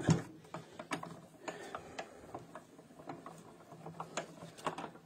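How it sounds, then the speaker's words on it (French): A Mixshot die-cutting machine cuts paper butterfly shapes with faint, close mechanical clicking and ratcheting, a quiet irregular series of small ticks and whirs with no talking. "Je vais ressortir la Mixshot, la machine de découpe"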